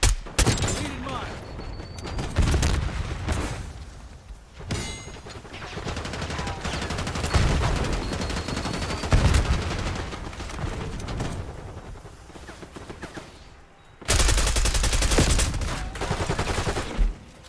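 Rapid automatic gunfire from a Call of Duty hardpoint match, bursts of shots and explosions rattling in waves with a voice talking over the action.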